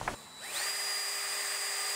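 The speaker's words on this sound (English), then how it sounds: "we are gonna pre-drill using an 1/8 inch bit right in that spot right there" A power drill pre-drilling a hole with a 1/8 inch bit while installing a storm door on a greenhouse. After a click, the motor whines up within half a second and holds a steady loud pitch, close and alone.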